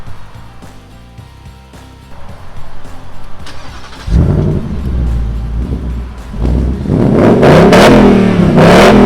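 A Ford Mustang GT 5.0 with a rear-wheel drive and 10-speed automatic idles with a burbling rumble, then revs hard and accelerates in loud rising surges that climb toward the end.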